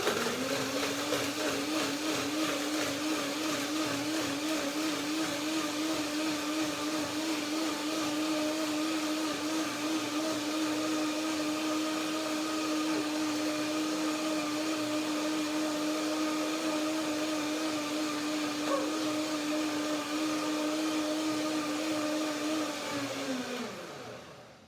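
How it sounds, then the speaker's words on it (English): Loud, steady whir of a blender mixing flaxseed and macadamia nuts with water into a cream, running continuously for over twenty seconds before winding down and cutting off at the end. "This is just the first blending."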